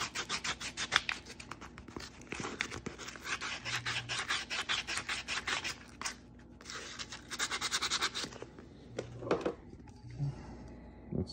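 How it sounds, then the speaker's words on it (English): Steady rasping and rubbing as the edge of a 1944 90% silver quarter coin ring is sanded by hand, with short strokes repeating in a quick rhythm, close and fairly quiet, pausing briefly now and then. "Let's sand that edge down again just to make sure."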